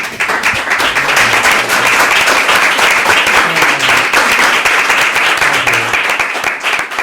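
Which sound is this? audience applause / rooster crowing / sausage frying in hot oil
audience applause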